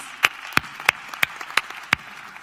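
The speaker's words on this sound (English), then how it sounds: "Give them a round of applause, please." Clapping for a cybersecurity panel at a EuroDIG 2019 conference plenary: six distinct, evenly spaced claps in a slow, steady rhythm over a quiet room, sounding like only a few hands.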